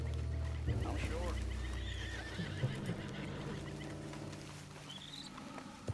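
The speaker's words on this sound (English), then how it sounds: "What's got this horse spooked, huh?" A spooked horse in the video game Red Dead Redemption 2 gives loud, close neighs and snorts over soft clip-clop hoofbeats. A high, rising whinny sounds near the end.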